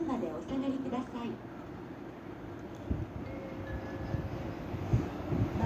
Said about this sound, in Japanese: まもなく1番線に電車が参ります。